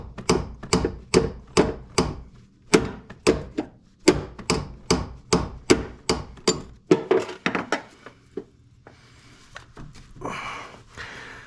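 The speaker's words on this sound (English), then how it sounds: "So now we're just back to doing it with a wrench." A wrench working a bolt on the high-pressure power steering line of a 1999 Jeep Cherokee XJ, a string of sharp, close metallic knocks in an uneven rhythm that thin out into faint clanks and scraping.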